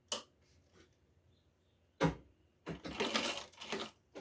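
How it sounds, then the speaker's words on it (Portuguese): A sewing machine stitches fabric in short bursts, with a brief run near the start, another at two seconds and a longer, louder whirring run toward the end, close and alone. "Eu vou costurar e já vem."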